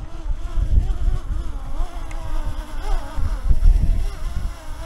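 Autel and DJI drones hover outdoors in gusty wind, their rotors giving a loud, wavering insect-like buzz that swells and dips with rumbling wind noise throughout.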